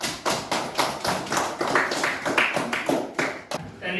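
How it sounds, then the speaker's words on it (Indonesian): Classroom students clap for a presenting group in a steady rhythmic pattern, crisp repeated beats about every third of a second, close and fairly loud, with some voices faintly underneath. "kita kasih tepuk tangan untuk kelompok 1"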